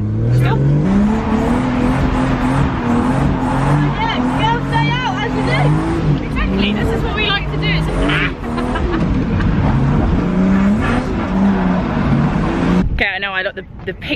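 A 350-horsepower car driving on a wet track at Rockingham: a loud engine droning and revving in rising and falling sweeps, with road and spray noise, under people talking, ending in a sharp high whine.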